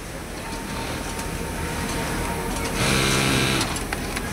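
An industrial sewing machine runs continuously in a Bangladeshi garment factory, a dense mechanical whir that surges louder for a short burst partway through amid the general workshop din.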